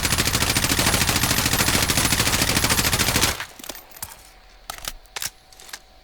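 M4A1 rifle fire in Call of Duty Warzone, a sustained rapid automatic burst of sharp, loud shots lasting about three seconds, then a few scattered single cracks and faint clatter.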